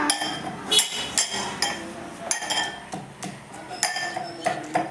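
Salt, cumin and tamarind being pounded in a mortar, giving a run of sharp, irregular knocks and clinks close by, roughly a dozen strikes with short pauses between them.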